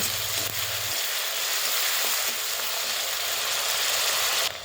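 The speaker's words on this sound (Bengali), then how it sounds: "পেঁয়াজটা কিন্তু বেশ ভালো করে ভেজে নিতে হবে।" Grated onion frying in hot oil, a constant close sizzling hiss that runs evenly and then cuts off sharply near the end, with a low hum in the opening second and no talking.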